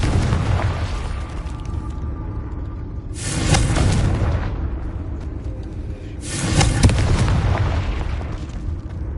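The Confringo spell explodes in Hogwarts Legacy with two loud booming blasts a few seconds apart. Each is a broad roaring burst that swells and then fades over a continuous rumbling game background, with no speech.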